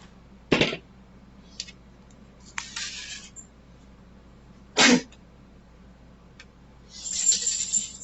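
A single short sneeze rings out once, with faint rustling and brief clinks scattered around it in an otherwise quiet room.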